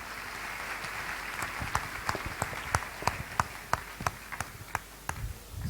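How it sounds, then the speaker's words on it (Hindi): An audience at an Achievers Day 2024 event claps, with sharp hand claps sparse at first, then quickening into a ragged, fairly even rhythm over a light hall murmur. "मैं चाहूंगा कि एक बार सब लोग अपने लिए ताली बजाकर अपना स्वयं स्वागत करें।"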